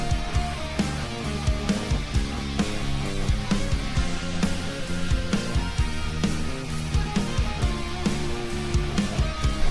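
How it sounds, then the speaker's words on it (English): A full band plays loudly live, with an electric guitar soloing over driving drums and bass. "Oh, okay. Guitar solo."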